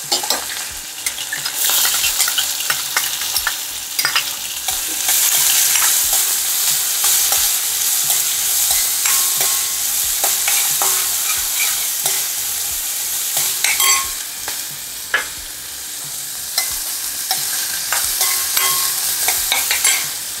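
Green chili and onion fry in a pan for vermicelli upma, a loud, close, continuous sizzle with frequent scraping and clinking of a spoon as it is stirred.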